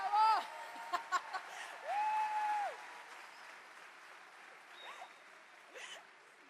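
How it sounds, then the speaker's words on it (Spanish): Audience at a church gathering gives short bursts of applause and cheering, with whistles and whoops audible over a low murmur before the noise fades quickly. "Les pedí que aplaudieran cuando llegara, por eso aplaudieron."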